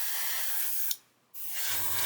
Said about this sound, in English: what we do is we spray on an angle. We don't spray straight onto it.